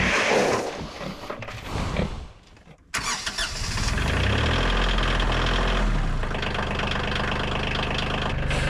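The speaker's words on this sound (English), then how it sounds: "So while the tractor's warming up" A tractor engine cranks and catches, then settles into a steady, low rumbling idle as it warms up, loud and close throughout.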